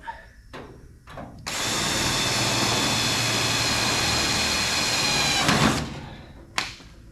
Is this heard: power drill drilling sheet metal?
yes